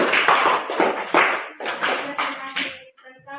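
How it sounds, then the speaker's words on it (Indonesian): Students clap for a classmate's presentation in a classroom, with uneven bursts of close hand claps and slaps that rise and fade over a few seconds, then trail off into a few scattered claps. "Kita berikan tepuk tangan lagi dulu supaya semangat."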